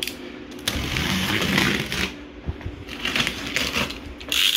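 A package holding a Thrustmaster T300 RS GT racing wheel is opened: steady rustling, crinkling and tearing of cardboard and plastic wrap close by, with a few sharp knocks and thuds, no speech.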